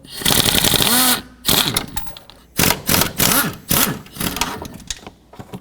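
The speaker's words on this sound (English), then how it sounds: "So I'm going to take my 13mm socket and remove the 2 bolts up top here." A power ratchet or impact tool with a 13mm socket whirs in loud repeated bursts while removing bolts from the exhaust manifold heat shield on a 2005-2010 Pontiac G6, with short pauses between runs.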